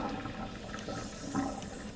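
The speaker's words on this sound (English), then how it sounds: "I'm going to drain it again." Simmered watermelon rind being drained, with water pouring out in a steady, continuous rush close by.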